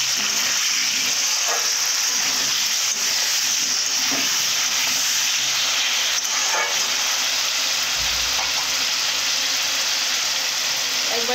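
Meat fries in a pan with a continuous bright sizzle while being stirred, with a few soft scraping knocks under the steady frying noise.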